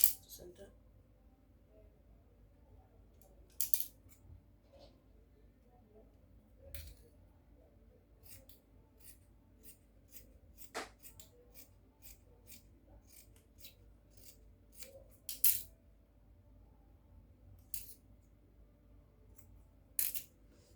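Scissors snip through ankara fabric in scattered short cuts, quiet crisp clicks spaced over a long, otherwise hushed stretch.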